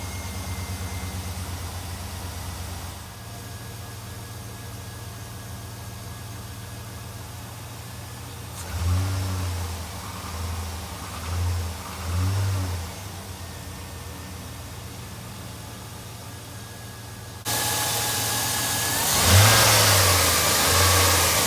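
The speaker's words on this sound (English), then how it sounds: "So I'm gonna crank it up now, let it idle a little bit" A 1999 Chevy Silverado 1500 pickup engine idles steadily at moderate volume, then pulls away with several low revving surges as it drives off, ending in a louder rush of road and wind noise.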